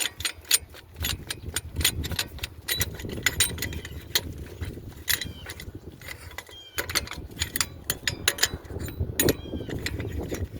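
A brake caliper piston compression tool turned during a front brake pad change on a 2008 Honda Odyssey EX-L, producing rapid ratcheting clicks in a steady run with some mechanical clatter, close up and without speech.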